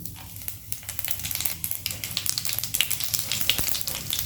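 Radhuni seeds and two dried red chilies fry in hot oil over a high flame, a close, continuous crackling sizzle with bursts of sharp pops that grows livelier.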